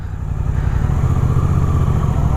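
A Suzuki GSX-8R motorcycle engine idling in second gear while climbing an incline with no throttle, a close, steady low rumbling putter with no talk.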